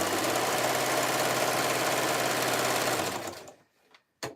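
Sewing machine stitching a fabric rag rug from jelly roll strips, a loud, steady, rapid mechanical hum running continuously for about three seconds before cutting off, followed by a brief clunk.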